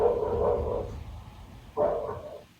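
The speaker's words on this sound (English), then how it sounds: "A dog began to bark," A dog barks in panic with a sustained, strained howling bark, a pause, then another abrupt bark, heard fairly close with nothing else.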